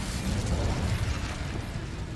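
Incendio fire spell in Hogwarts Legacy: a dense, loud fiery burst that roars steadily for a couple of seconds, with a crackling, explosive rush and no talk.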